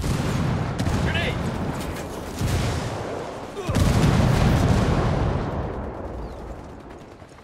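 A grenade goes off in the shooter game Ghost Recon Wildlands, a loud, close, sustained roar of blast and rumbling debris that swells midway and then slowly fades.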